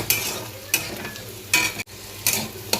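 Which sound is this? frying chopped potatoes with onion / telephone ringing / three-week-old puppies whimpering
frying chopped potatoes with onion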